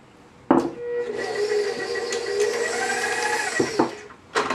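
A stand mixer with a paddle works grated cheese into gluten-free bun dough, starting with a clunk and running as a close, steady motor whir with rhythmic thumping before it stops with a knock.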